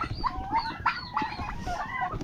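Turkeys bought at a Filipino home gobble and call in a few bright, quavering bursts, close and fairly loud, over a low rumble of background noise.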